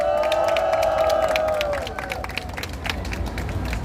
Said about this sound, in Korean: 주옥선 여사님께 다시 한번 큰 박수 부탁드리겠습니다